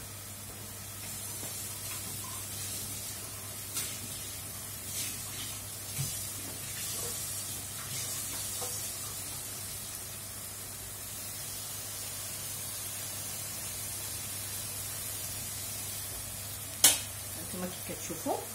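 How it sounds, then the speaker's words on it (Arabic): Hot water poured into a pan of sizzling merguez sausages sets off a steady, hissing sizzle that holds evenly throughout at moderate level, with a sharp louder splash-like burst near the end and no talk. "هنا غادي نزيد له ميه سخنه ماشي ميه بارده"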